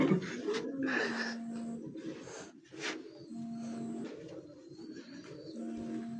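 Pigeons coo on a Faisalabad rooftop loft in repeated low, throaty phrases with short pauses between them, close by, while faint background noise and occasional chirps drift underneath.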